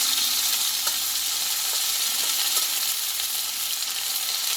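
Paste of ground ginger, green chilli and whole cumin sizzles steadily in a hot pan of oil for a Bengali pumpkin-stem curry, a close, continuous hiss with faint crackles throughout.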